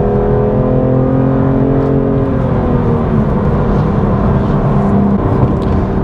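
The engine of a BMW M2 Competition with a manual gearbox rises and falls in pitch as it rev-matches on a downshift into a corner, a loud, steady mechanical drone heard up close from inside the car with no talk.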